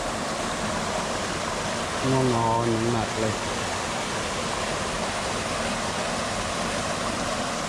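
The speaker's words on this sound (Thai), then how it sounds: "เพราะว่าเราได้ยินเสียงน้ำไหลผ่าน" Water flows past steadily in a stream outdoors, a constant rushing wash throughout. A person speaks briefly in the middle of it.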